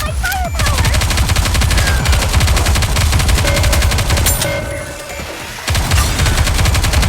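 Sustained rapid gunfire from NIKKE: Goddess of Victory, dense machine-gun bursts and shots filling the scene loudly and continuously, with a brief dip before the shooting resumes.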